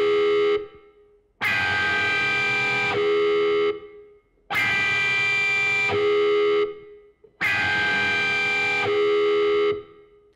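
Electric guitar soundscape opening a song, played through a wah pedal: three long, loud, distorted swelling chords, each about two seconds, separated by short silences.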